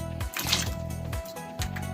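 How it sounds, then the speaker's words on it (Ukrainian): Peeled, chopped potatoes are tipped into a pot of chicken broth for rice soup. Several soft, wet plops and squishes follow in quick succession, close by but quiet. "Так, додаємо також приготовлену заздалегідь очищену та нарізану картопельку."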